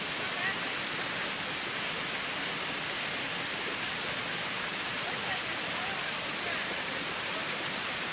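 A partly frozen waterfall runs in winter, a steady broadband rush of falling water heard at moderate distance with no other sounds.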